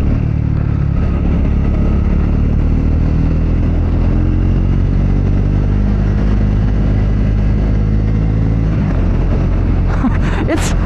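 Triumph Scrambler 400X motorcycle engine droning steadily close by while being ridden, with subtle pitch shifts as gears change and a brief clatter near the end.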